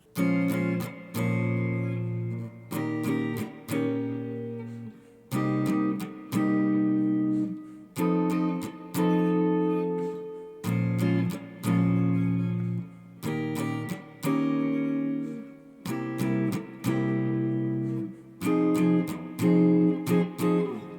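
Guitar strums a chord progression in repeated rhythmic bursts with brief pauses between phrases, clear and close, no voices.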